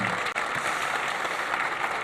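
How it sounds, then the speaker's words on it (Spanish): An audience at a tech talk on data mesh and the cloud breaks into applause, a steady wash of many clapping hands heard fairly close and evenly loud for two seconds. "aplauso de vuelta"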